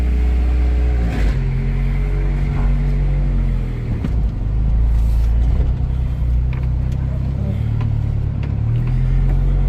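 A Honda Civic engine runs at idle, loud and close, holding a steady low droning rumble with a few slight revs throughout, while a person talks over it.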